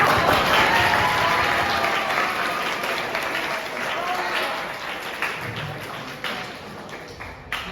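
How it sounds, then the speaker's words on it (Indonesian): Audience applause at a dance and choreography event in Indonesia, a full burst of clapping that starts loud and gradually thins out, with a few scattered claps and a voice near the end. "Tepuk tangan lagi dong."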